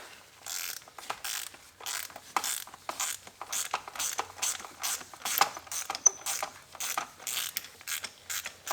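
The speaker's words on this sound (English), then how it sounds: "We will take our spark plug thin-walled socket, put it in, and just crank that guy out." A ratchet turns a thin-walled spark plug socket to loosen a spark plug on a BMW N54 engine, giving repeated quick clicking bursts in a steady rhythm, close and fairly quiet, with no talking.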